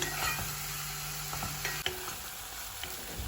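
Mushrooms sautéing in a pan for cream of mushroom soup, a steady close sizzle with several clacks of a stirring utensil against the pan.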